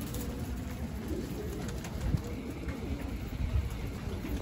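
Pigeons coo in a rooftop pigeon-flying setting where flocks are released, soft low cooing and occasional wing or foot sounds over a busy outdoor background hum.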